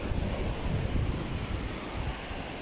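Rough ocean waves crash onto shoreline rocks, a steady, loud churning roar of surf mixed with buffeting wind across the microphone, rising in surges without any voices.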